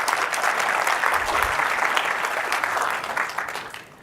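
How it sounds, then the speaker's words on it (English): A conference audience at a cancer genomics forum claps loudly and steadily for about three and a half seconds before the applause tapers off toward the end. "So give them all a big round of applause"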